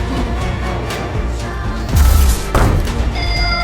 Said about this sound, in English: Taking advantage of the explosion, Ben managed to escape into the basement.